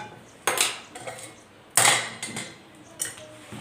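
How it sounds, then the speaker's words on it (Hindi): A metal spoon knocks and scrapes against a bowl while semolina batter is stirred and whisked, with three sharp clatters among softer scraping, close and with no talk. "थोड़ा सा इस तरीके से चलाते हुए फिर से फेंट लेते हैं, मिक्स कर लेते हैं अच्छे से"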